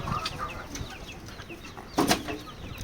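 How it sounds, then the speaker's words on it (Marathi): A hen clucks in short, scattered bursts nearby on a poultry farm, with a louder flurry near the end and some faint farmyard bird chatter. "आता ही बघा कोंबडी सतत तिथे येते"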